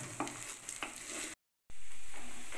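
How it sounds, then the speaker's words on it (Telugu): Potato pieces frying in oil for sago kichidi, a steady broadband sizzle with light stirring scrapes, broken by a brief dropout before the frying resumes louder and smoother. "after frying of this potato you have to add the onion"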